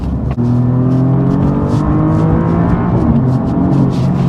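Heard from inside the cabin, a 2021 Alfa Romeo Giulia Quadrifoglio in dynamic mode accelerates hard with a loud, continuous engine drone whose pitch climbs steadily, then dips briefly around a gear change and climbs again.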